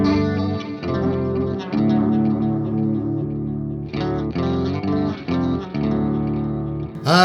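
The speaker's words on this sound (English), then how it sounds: "With a flick of a switch back to chorus mode." A clean-ish electric guitar strums chords through a BOSS pedal in chorus mode, a shimmering, doubled modulation that thickens the tone, sustained throughout with a few short gaps.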